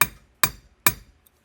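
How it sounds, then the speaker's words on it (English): Hammer drops onto the firing pin of a Steyr Hahn pistol during metalwork: three sharp metallic strikes evenly spaced about 0.4 seconds apart, each ringing briefly and decaying, close and fairly loud, followed by a faint tick. "We're just dropping the hammer on it."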